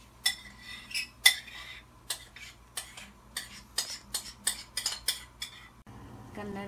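Leftover fish being ladled into a cooking pot while the broth heats, with a run of sharp metallic clinks and scrapes of ladle and utensils against cookware, close and irregular, with a steady low hum underneath.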